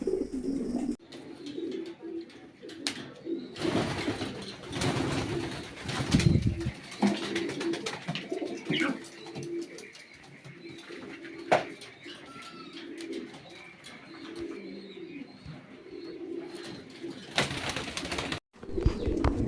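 Pigeons cooing on a pigeon farm, a steady chorus of low coos with scattered chirps and wing flutters, fairly close and continuous, with no one talking.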